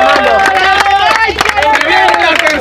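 A crowd at a freestyle rap battle claps and cheers loudly up close, with rapid scattered hand claps mixed with shouting voices and loud talk throughout.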